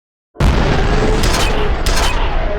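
A contact grenade exploding in the shooter game F.E.A.R.: a sudden loud boom after brief silence that rolls into a dense, sustained roar of blast and debris, with sharper crackling bursts partway through.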